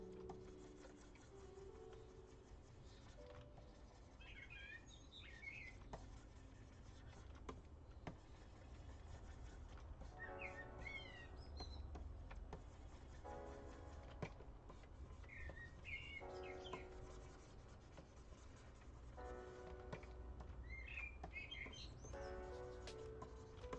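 Small birds chirp and trill outdoors in short repeated bursts, fairly faint over a steady low background rumble, with no one talking.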